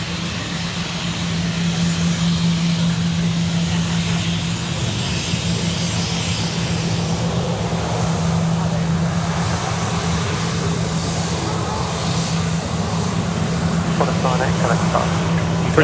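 Qantas flight 73, an airliner, taxis past at Sydney Airport with a steady engine hum and a low droning tone, voices chatting over it throughout.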